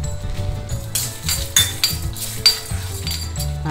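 A handful of urad dal added to a pan for frying, with clinking metal and small rattles of the lentils against the cookware, close and fairly loud, with several sharp taps and no talking.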